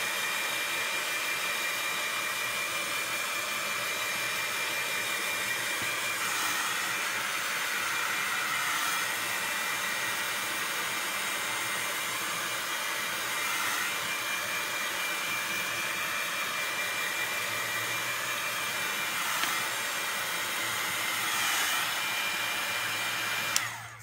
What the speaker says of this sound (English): Okay, so one more sec for the heat tool.